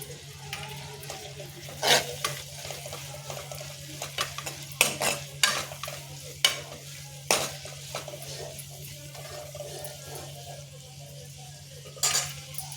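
A spoon stirs turmeric into a hot pan of sizzling oil before bottle gourd pieces go in, giving a low steady sizzle broken by several sharp metallic scrapes and clinks against the pan, close and fairly quiet, with no talking.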